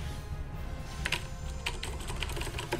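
Scattered, clacky key presses on a mechanical keyboard, irregular bursts of close, crisp taps over a low steady hum.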